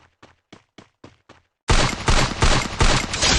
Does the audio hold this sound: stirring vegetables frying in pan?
no